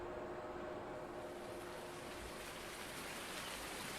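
Steady rain falling in the Farming Simulator 19 video game, a soft, even hiss of rainfall filling the scene at constant low level, with a faint tonal hum underneath and no talking.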